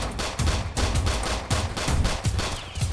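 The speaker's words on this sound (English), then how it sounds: "who's shooting over here?" Rapid gunshots ring out in a Roblox South Bronx hood roleplay game, a continuous stream of fast, overlapping reports at moderate volume with no talking.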